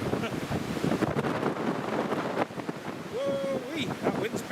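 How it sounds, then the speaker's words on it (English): Strong storm wind at Newcastle International Airport during Storm Otto roars and buffets the microphone continuously, loud and gusty throughout, with a faint tonal whine rising in the background. "Whoa-wee, that wind's picked up"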